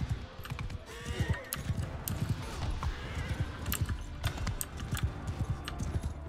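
Horse hooves clip-clopping in Mount & Blade II Bannerlord, a steady run of hoof beats with a brief whinny and some jingling tack over game ambience, no talk.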